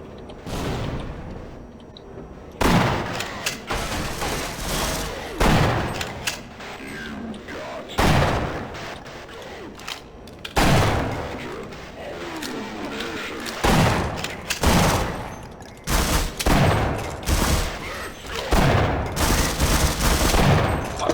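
Gunfire in the video game Half-Life: repeated loud bursts of shots and booming blasts in quick clusters with brief lulls, mixed with game effects and a voice talking between.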